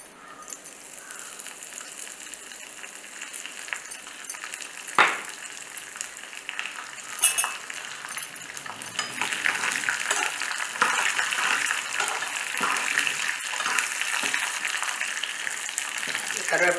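Peanuts and curry leaves fry in hot oil for tamarind rice, giving a steady bright sizzle that thickens and grows louder midway, with a few sharp spatters and stirring clatter. No one speaks.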